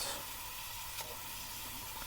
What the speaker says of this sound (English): For the rusted springs, I will use this rust remover, and I just spray a good amount